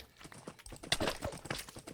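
Horse hooves clip-clop in Minecraft, the video game, a quick run of quiet, irregular clopping steps with hollow knocks over a couple of seconds, fairly faint and alone.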